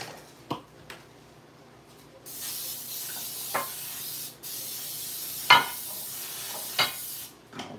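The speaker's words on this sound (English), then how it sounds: "Oh, I need to spray my dish." Cooking spray hisses from a can in two sustained bursts onto a dish, with scattered light clicks and clinks around it.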